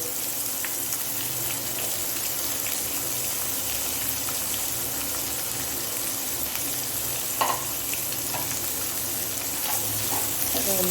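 Chopped medium onion and three green chillies sautéing in a hot pan, a steady broadband sizzle running throughout with occasional stirring clicks and a voice talking faintly over it.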